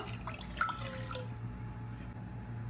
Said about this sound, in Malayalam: ഇതിലേക്ക് 1 ഗ്ലാസ് വെള്ളം ഒഴിച്ചു കൊടുക്കാം